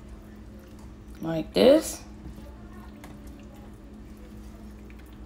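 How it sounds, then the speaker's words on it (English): Rotel dip being stirred gives a short, thick, wet squelch near the start, followed by a faint steady room hum with a voice talking. "we're gonna stir it up real good"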